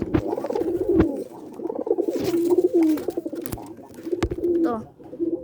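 Pigeons coo close by in soft, throaty repeated phrases, with a few short knocks and rustles between calls.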